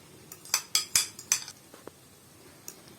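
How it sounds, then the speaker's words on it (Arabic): Short sharp clinks and taps of utensils against a dish while old cheese is mashed onto tomatoes, several quick metallic hits clustered in the first second and a half, then sparse fainter clicks, close and quiet. "فانا بقى هنزل بالجبنه هنا واهرسها على الطماطم"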